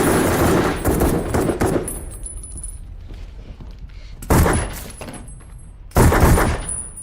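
Gunfire in a tense film scene: bursts of rapid shots, then quieter stretches, then two more sharp loud volleys near the end, close and alone with no talk.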